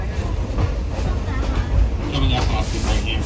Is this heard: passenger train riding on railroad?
yes